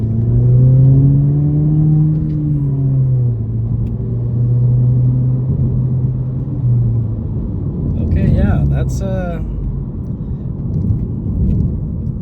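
Low burbling drone from a Borla exhaust on a 2023 Honda Civic Sport Touring, a loud steady rumble with gently wavering pitch throughout, and a voice speaking briefly over it partway through.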